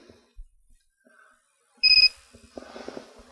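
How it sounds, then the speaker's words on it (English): An MR4 LaserStim super pulsed laser gives a single sharp, bright beep during treatment, preceded and followed by faint handling clicks and knocks. "It's beeped."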